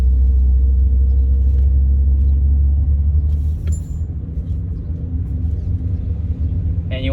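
Steady low engine rumble of a BMW E30 on the move, loud and continuous, with a brief higher whine near the end.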